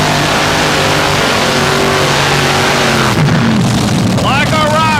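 A pulling tractor with an Aries engine, known as the Driller, roars loudly with a steady, heavy engine drone that shifts pitch partway through, while a voice talks over it.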